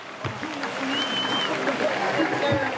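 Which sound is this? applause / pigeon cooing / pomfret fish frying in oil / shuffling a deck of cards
applause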